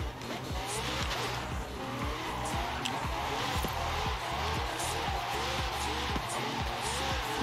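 A car drifting around a roundabout in Forza Horizon 5 gives a continuous loud tire squeal with wavering pitch over a steady engine drone, plus bursts of revving, while someone talks over the game sound.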